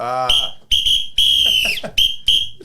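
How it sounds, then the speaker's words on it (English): A referee's whistle shrills in several sharp, loud blasts, close and piercing, with short gaps between them during a youth game. "Blow the whistle."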